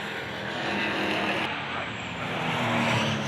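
Euro-Racecar NASCAR race cars roaring past at the Druids hairpin at Brands Hatch, a loud continuous engine rush with a brief tire-squeal edge, steady and close throughout.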